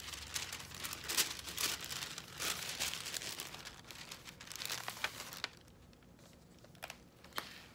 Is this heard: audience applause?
no